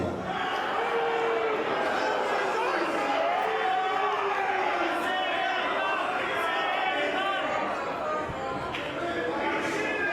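A large wrestling crowd at a Sydney show chants in unison, a steady, loud wall of massed voices that never lets up.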